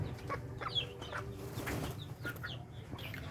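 Sweater gray chickens on a farm cluck and chatter steadily close by, several birds overlapping in soft, continuous calls with no talk.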